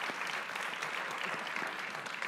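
Audience at a candidates' forum for New York State Senate and Assembly seats applauding steadily, a dense even wash of clapping throughout with no voices over it.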